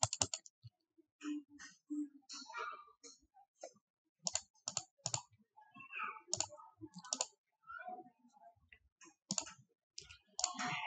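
Rapid keystrokes on a computer keyboard, clicking in quick irregular bursts with short pauses, close and fairly quiet, no voices.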